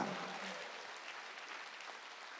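A church congregation claps together during a Wednesday worship service, a dense, steady wash of applause that stays fairly even and moderately loud for the whole stretch, with no speech over it.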